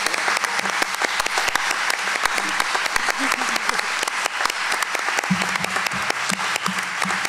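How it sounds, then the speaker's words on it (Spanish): Strong applause for María Cristina Chardón at the opening of an older adults' event, a loud continuous crowd clapping with sharp individual claps, and voices calling out underneath partway through. "para quien pido un recontrafuerte aplauso"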